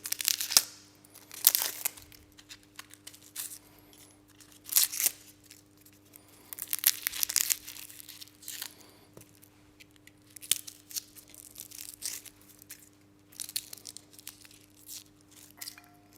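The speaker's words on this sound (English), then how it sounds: "Using the sharp side of the knife, carefully peel away the skin like this." A sharp kitchen knife scraping and peeling the dry skin off garlic, ginger or onion, heard as intermittent close crinkly scrapes and rustles in short bursts, separated by quiet pauses over a low steady hum.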